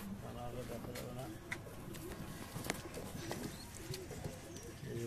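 Pigeons in a high-flying pigeon breeding loft coo softly in low, repeated throaty phrases, quiet and close, while a person talks over them.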